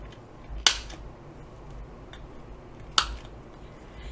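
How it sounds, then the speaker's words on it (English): A corner rounder punch clipping the corners of a journal card, two crisp, sharp clicks about two seconds apart, close and distinct over quiet room tone. "we're going to round all the corners on the card."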